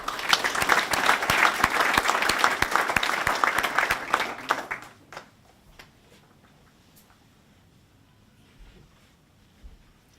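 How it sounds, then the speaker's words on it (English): An audience at a 2018 VET International Practitioner Fellowship presentation claps steadily to congratulate the fellow, a dense burst of applause that fades out after about five seconds into a quiet room. "So can I please ask that you all put your hands together and congratulate Melanie?"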